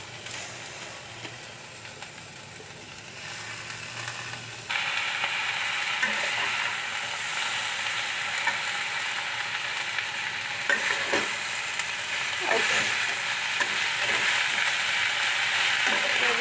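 Saag greens frying in a pan at home, a low steady sizzle that jumps to a loud, bright hiss partway through, with scraping stir strokes toward the end.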